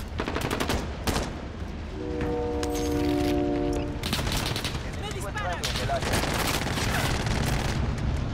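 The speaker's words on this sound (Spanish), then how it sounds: "¡Me disparan!" Gunfire in the video game Warzone: dense bursts and rapid automatic volleys rattle close and loud for most of the stretch, with a steady tonal hum partway through and brief shouted voices mixed in.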